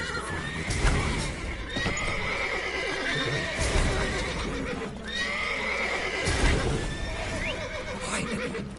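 Horses in The Witcher 3: Wild Hunt whinny loudly several times over a steady clatter of hooves, with neighs repeating at intervals through continuous battlefield noise.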